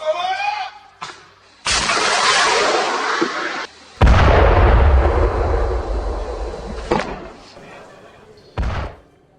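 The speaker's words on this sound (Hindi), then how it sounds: "जिसमें उसने इजराइल के कम्युनिकेशन टावर को उड़ा दिया।" A close, loud explosive blast as a communication tower is blown up in a conflict zone, with a sustained roaring burst, then a second heavy boom followed by a long rumbling decay and a later short bang.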